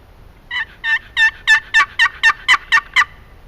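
Wooden box call imitating a wild turkey, about ten sharp yelping notes in a steady, building rhythm, loud and close with no talking.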